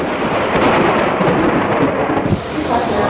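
A thunderstorm over Dhaka, with heavy rain pouring steadily and thunder rumbling throughout, loud and enveloping, with no voices.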